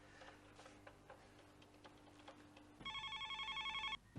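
An indoor telephone rings with a loud warbling electronic trill lasting about a second, following a stretch of quiet ticking in a domestic comedy scene.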